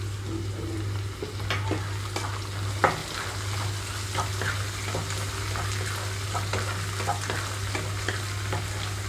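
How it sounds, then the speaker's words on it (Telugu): Onions, ginger-chilli paste and tomato fry for upma with a steady close sizzle and a low hum, while a spoon stirs and scrapes the pan in irregular strokes; no one speaks. "రెండు నిమిషాల పాటు వేయించుకుంటున్నాను వీటిని"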